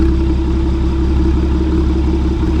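A Porsche 981 with a Soul Performance competition exhaust, valves open, runs with a loud, steady low rumble and harmonic drone, close by and without talk.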